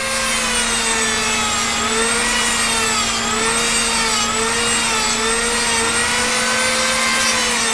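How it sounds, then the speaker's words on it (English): A sanding drum carves basswood in a continuous, close, steady whir with a constant high hum and a wavering grinding tone as the drum works the wood. "You can get some really nice depth with this sanding drum on basswood."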